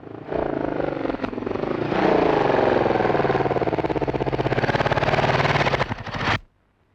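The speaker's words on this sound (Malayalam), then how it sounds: "ഒരു മോട്ടോർ സൈക്കിളിന്റെ ശബ്ദം." A motorcycle engine rises from a distant hum to a loud, close, rapid pulsing drone as it approaches, holds steady for several seconds, then cuts off abruptly.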